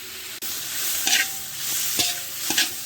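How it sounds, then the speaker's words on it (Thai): Minced pork sizzles and crackles in a hot pan, with a few sharp scrapes of a spatula stirring it, steady and close. "นำหมูสับที่เราสับแล้วนะคะ ลงไปรวนค่ะ"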